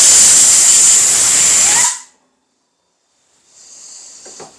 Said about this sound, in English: When I blow the air to it,